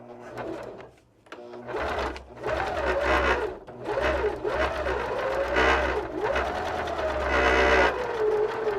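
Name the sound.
sewing machine stitching along a paper piecing line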